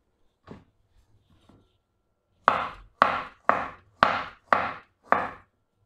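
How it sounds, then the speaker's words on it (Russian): A knife slices a peeled banana into rings on a board, six firm, evenly spaced chops in a quick steady rhythm, close and clear, after a few softer cuts at the start. "Вот мы и нарезали банан."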